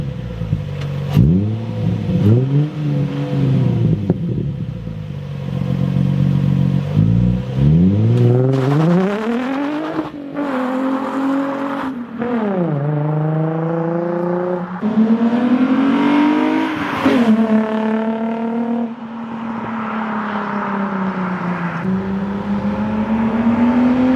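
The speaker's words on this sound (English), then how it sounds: "I think I'm gonna throw in some clips of me driving." A Nissan 350Z on the road, its engine loud and close as it revs up and down through repeated climbing and falling pulls, alone with no talking.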